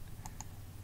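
Two quick, soft computer mouse clicks, about a sixth of a second apart, over a steady low hum while arranging components in a graphical interface.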